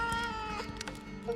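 A cat in the video game The Siege and the Sandfox meows as it is petted, giving a couple of short, close meows over a steady bed of in-game music.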